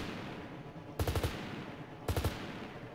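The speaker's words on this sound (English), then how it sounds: "Alright, I'm pretty sure those guys are shooting at us." Enemy gunfire in the ARMA 3 video game comes as two short, distant bursts of four rapid shots each, about a second apart, over a low background hum with no talk.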